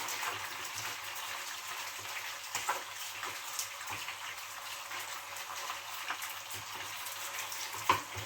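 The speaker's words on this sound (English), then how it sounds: "I'll just keep moving this around in the pan for the next 15 minutes or so, just to get it nicely seared." Pheasant searing in a pan gives a steady, quiet sizzle and hiss that runs throughout, broken by a few soft clinks and bumps as the meat is moved around.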